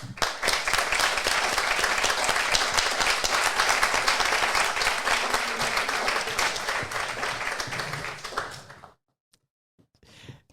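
Crowd applause thunders for a marathon finisher at a Paris Marathon event, loud dense clapping sustained for about nine seconds before cutting off into near silence.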